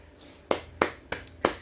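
Four sharp, evenly spaced hand claps from a single person, close and fairly quiet, standing alone with no talk around them.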